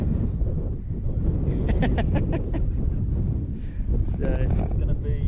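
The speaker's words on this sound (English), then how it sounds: "it's still quite windy up here" Storm wind buffets the microphone on the exposed hilltop of Bamford Edge during Storm Ellen, a loud, rumbling low roar throughout, with a voice speaking over it.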